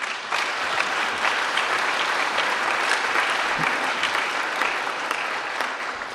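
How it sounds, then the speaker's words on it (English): Audience applause at a Kansas City startup pitch event, a sustained wash of many hands clapping, steady and fairly loud for several seconds with faint crowd noise and no talk. "Let's give him a round of applause."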